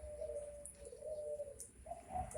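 Puter pelung turtle doves in a flock of young birds coo repeatedly in close, rhythmic phrases, with a few higher chirps over soft background noise.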